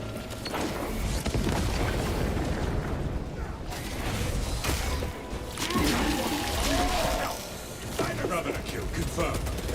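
Heavy bolter gunfire in a Warhammer 40,000 video game roars as a dense, continuous mechanical barrage with booming impacts, mixed with game effects and someone talking over it.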